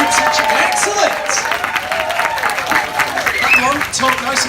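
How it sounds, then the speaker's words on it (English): A festival audience at a mountain festival talk welcoming a speaker, with a loud, continuous wash of clapping and cheering filling the room, crowd voices mixed in. "give a massive round of applause, filled with groups and cheers, and welcome Dan Keeley"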